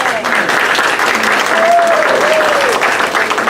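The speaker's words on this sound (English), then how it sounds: "one last round of applause for all the work that the board does" A luncheon crowd gives a loud, sustained round of applause for a board, dense clapping that fills the whole stretch while faint voices and a cheer or two rise briefly beneath it.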